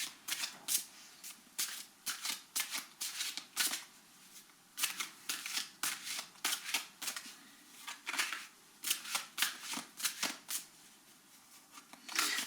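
Tarot cards are shuffled close up in repeated bursts of crisp riffling and flicking, with short pauses between the bursts.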